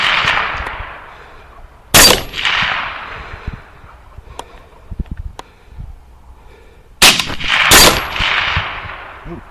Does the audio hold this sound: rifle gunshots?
yes